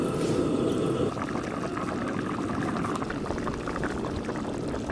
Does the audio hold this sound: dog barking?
no